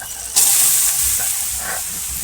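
Water lily stems hit hot oil in a pan with an abrupt, loud hiss that settles into a steady, bright sizzle and stays strong to the end.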